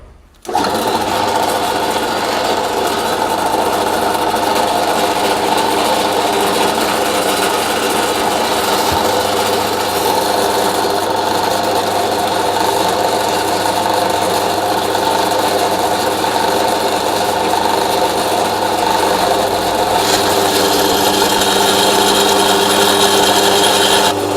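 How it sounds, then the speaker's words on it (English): A drill press runs with a steady motor whine and grinding hum for a long stretch, loud and close, the pitch shifting slightly as it bites into metal knife blanks. "we're going to put the knives on the actual table, and then we're going to drill them."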